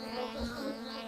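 Honey bees buzz around an open hive while its honey stores are checked, giving a brief, faint and steady droning hum.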